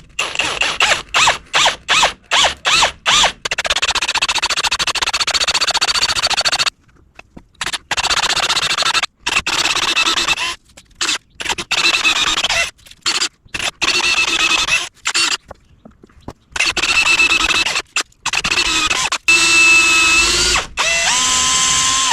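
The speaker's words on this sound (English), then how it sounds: "I'm gonna attempt to drill through these and add a grease zert" A drill bores through excavator bucket pins in a workshop with a harsh, whining grind. It starts and stops in short bursts, then runs in longer stretches with brief pauses between them.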